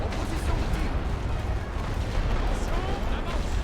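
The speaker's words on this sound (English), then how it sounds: "Let's see if we can soften that up with some artillery here." Artillery fire in The Great War: Western Front, a World War I strategy game, heard as a continuous rumbling barrage of distant booms and pops, fairly loud and unbroken throughout.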